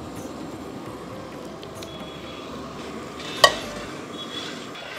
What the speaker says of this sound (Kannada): ಈ ಬೆಲ್ಲದ ಪಾಕ ಇರುತ್ತಲ್ಲ ಆ ಪಾಕದ ಬಟ್ಟಲಿಗೆ ಆ ಕುದಿತಾ ಇರೋ ಬೆಲ್ಲಕ್ಕೆ ಈ ಒಗ್ಗರಣೆಯನ್ನು